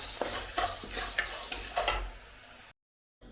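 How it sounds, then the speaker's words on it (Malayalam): A spoon scrapes through roasting spices in a pan with the heat turned off, a few quick close stirring strokes over soft sizzle for about two and a half seconds before the sound cuts to silence. "നമുക്കിതൊന്ന് തീയൊന്ന് അടച്ചു കൊടുക്കാം. എന്നിട്ട് ഇച്ചിരി നേരം ഒന്ന് ഇളക്കാം."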